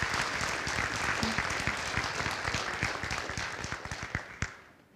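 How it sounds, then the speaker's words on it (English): A church congregation applauds its school teachers at a Sunday worship service, steady moderate clapping that rings in the room and tapers off with a few last claps. "So would you give them a round of applause,"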